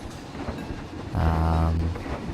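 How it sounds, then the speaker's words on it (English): A roller coaster train in the Planet Coaster video game rumbles into motion with a steady low mechanical drone and clatter, rising for about a second and then easing back, with no talking. "we're gonna get on the train here"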